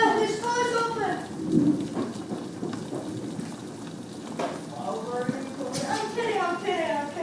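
Steady rain pours outdoors during a thunderstorm with lightning, a dense hiss throughout with low rumbles of thunder beneath, while people talk over it nearby.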